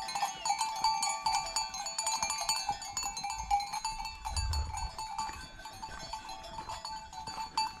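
A flock of grazing sheep, each wearing a bell, fills an abandoned seaside village pasture with a continuous jangle of many small bells ringing irregularly at close range, with a faint bleat among them.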